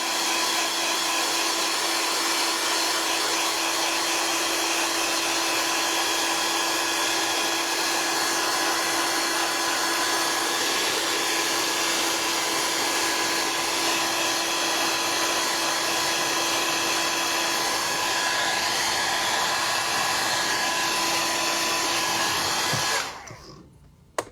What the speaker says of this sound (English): Just put a little heat on it with your hair dryer or heat gun.